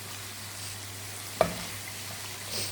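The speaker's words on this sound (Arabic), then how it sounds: "هايديك دوكا نقليهم مليح" Chicken and onion fry in a pan with thyme, turmeric, ras el hanout, salt and black pepper, giving a soft steady sizzle with a single sharp utensil clack near the middle. No one speaks.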